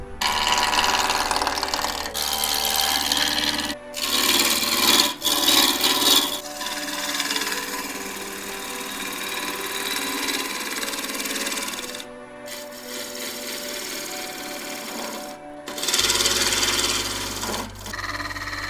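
A spindle roughing gouge cuts spinning wood on a lathe while a mallet is shaped, giving a close, continuous rasping scrape that swells and eases over long passes, broken by a few brief silent gaps.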